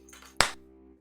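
A single sharp hand clap rings out close and crisp, a brief bright burst with a quick decay over a low steady hum.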